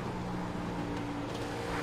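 A NASCAR stock car in the iRacing video game at Homestead: a steady, droning engine note with a low harmonic hum, moderately loud and continuous, as if another car runs close alongside.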